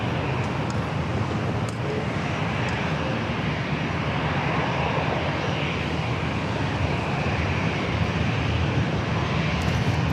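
Aircraft at San Diego airport, including a Cessna and a Blackhawk, produce a continuous broad engine roar and rumble heard from a distance, steady and unbroken throughout with faint background traffic.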